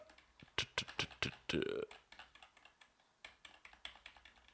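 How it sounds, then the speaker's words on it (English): Rapid keystrokes on a computer keyboard while entering text in a terminal editor, a burst of clicks and taps followed by a short pause, then more steady typing, close and clear with no speech. "Press I for insert mode, and then you'll be able to type things in"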